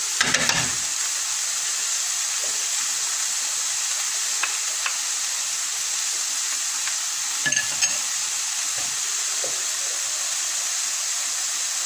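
Onion and other ingredients frying in a pan for a beef coconut roast, a steady bright sizzle and hiss throughout with occasional faint stirring clicks, no voices.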